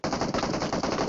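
Rapid automatic gunfire in the mobile battle-royale game PUBG Mobile, a loud, continuous burst of rattling shots filling the whole moment with no speech.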